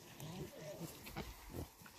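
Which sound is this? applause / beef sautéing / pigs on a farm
pigs on a farm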